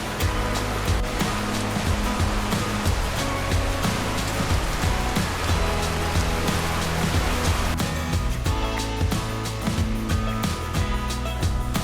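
Water of Eagle Creek rushing past in a steady, loud, unbroken wash at close range, a backcountry creek crossing with no voices over the flow.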